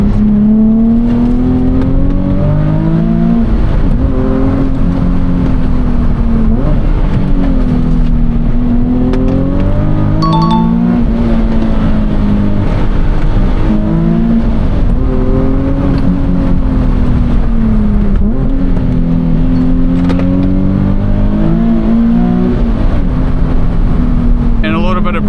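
A Nissan 370Z Sport Coupe with a six-speed manual gearbox pulls hard from inside the cabin, its engine revving and rising through the gears with a steady, loud drone and wavering pitch sweeps, with occasional talk heard over it.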